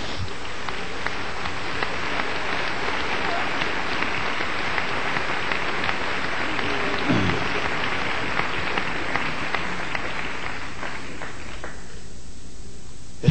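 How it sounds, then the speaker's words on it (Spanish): An audience at a church sermon applauding, a dense, loud, sustained clapping that fills the room, continuing evenly before it cuts off near the end. "Dale un aplauso a Jesús, oh, gloria a Dios."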